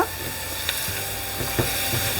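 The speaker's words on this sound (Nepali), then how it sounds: "बेसार र रेड चिल्ली पाउडर राखेर पनि यसलाई हामीले भुट्नुपर्छ" Tomato and onion with turmeric and red chili powder sizzle steadily in a hot pan, a continuous close frying hiss with a few faint clinks of stirring, no voices.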